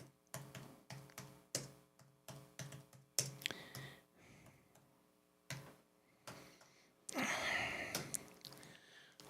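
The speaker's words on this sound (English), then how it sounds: "I'm going to type in" Someone types on a computer keyboard in irregular bursts of close, crisp clicking, with short pauses between keystroke clusters and a longer, rougher rustling noise near the end.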